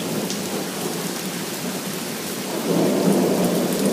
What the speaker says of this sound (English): The wind's died down, the rain's not as heavy, but the lightning is